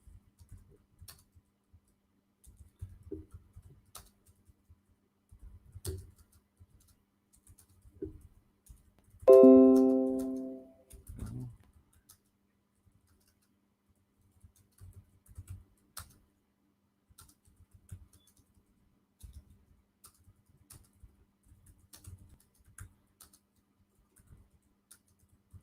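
Someone types on a computer keyboard in a quiet room, producing sparse, faint clicks and short bursts of keystrokes over a long stretch, with one brief louder tonal sound in the middle.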